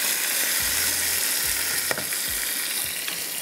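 Ginger-garlic paste sizzles in a hot pan while cooking keema noodles, a steady loud frying hiss broken by several low scraping knocks as the pan is stirred and shifted.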